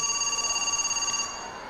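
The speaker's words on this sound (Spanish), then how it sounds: "Pepe, está sonando el teléfono." A telephone ringing with a rapid trilling electronic bell tone, one short ring burst that stops partway through, clear and close.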